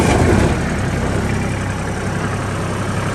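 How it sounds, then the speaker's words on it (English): A Miller Big Blue 300 Pro welding generator engine idles in a steady, loud, even drone with a low rumbling pulse, running alone without voices. "one of the cleanest welding generators we've had in. Right around 1900 hours, starts up right away."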